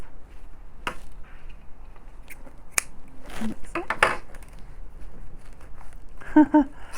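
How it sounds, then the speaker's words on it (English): A few sharp snips of scissors cutting paper while junk journal crafting, with rustling and handling noises around them, fairly close. "Scissors."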